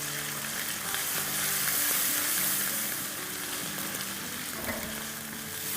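Green chilli, garlic and ginger fry in a pan with a loud, dense sizzle that swells slightly midway, a soft musical background running beneath it the whole time.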